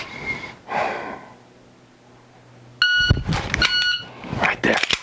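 A shot timer sounds during dry-fire draw practice, giving a sharp electronic beep with a steady tone. Breathing and rustling movement follow the beep, and a voice is heard faintly before it.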